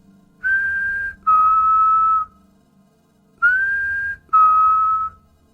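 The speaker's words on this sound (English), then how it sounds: "filmed a man in a boat making the same two-tone whistle" A man whistles a two-tone call twice, each time a higher note dropping to a slightly lower held note, clear and close against near silence.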